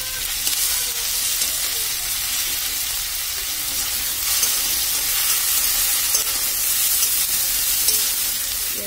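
Crushed ginger and garlic frying in hot oil with a steady, close sizzle and crackle that runs unbroken, with faint stirring scrapes and no talking.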